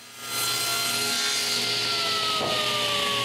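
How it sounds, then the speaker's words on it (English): A large chunk is sawn from an old wooden door frame with a power saw, which gives a loud, close, continuous whine as it cuts through the wood. "There's quite a big chunk to cut from the original frame."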